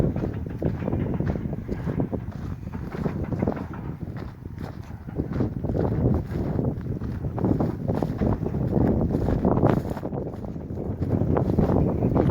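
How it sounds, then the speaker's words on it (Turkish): Strong, steady wind roaring and buffeting the microphone outdoors near the high church at Güzelyurt, Aksaray, in Cappadocia, a continuous low rumble with gusty surges throughout. "muhteşem bir rüzgar var. kufur kufur esiyor arkadaşlar."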